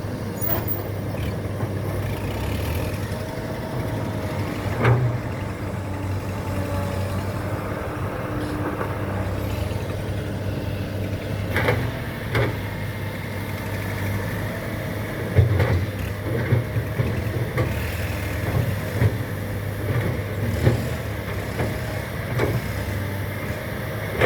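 A tractor clears a route at a dirt pit, its engine a steady low drone at moderate distance with occasional clanks and knocks, and no voices.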